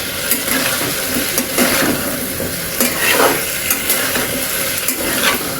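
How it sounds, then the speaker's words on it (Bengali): Taro pieces and shrimp being stirred in a frying pan over a raised flame: a loud, continuous close sizzle with repeated scraping strokes of a spatula against the pan. "ভালোভাবে একটু মিশিয়ে নেব।"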